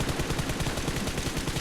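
Rapid video game gunfire, a fast run of evenly spaced shots like an automatic weapon, loud and continuous with no talking over it.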